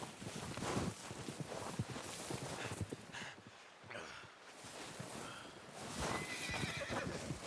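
A horse whinnies in a snowy blizzard scene in the video game Red Dead Redemption 2, with hoof clip-clops and rustling around it, the neigh rising clearly over the background.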